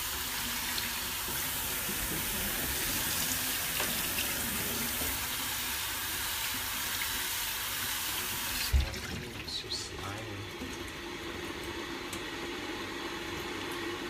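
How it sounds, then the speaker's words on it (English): Cold tap water runs steadily into a sink over cooked rice noodles for pho, a continuous close hiss with a brief clunk partway through and quieter flow afterward. "Run it under some cold water to stop it cooking,"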